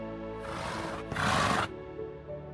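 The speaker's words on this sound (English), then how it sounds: "Hey, horsey." A horse neighs in the video game Minecraft (Sevtech Ages), one short, clear whinny that rises to a louder, bright peak and then cuts off, heard close over quiet game ambience.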